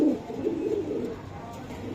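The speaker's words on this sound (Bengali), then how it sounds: "খুবই সুন্দর কবুতর" Domestic pigeons, including a pair of red-marked birds, coo in low, soft, rolling murmurs that run continuously at close range, with faint background hiss and no talk.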